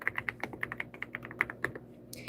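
Rapid keyboard typing close by, a quick run of crisp, clicky keystrokes in an uneven rhythm with short pauses, ending in a brief slightly louder clatter.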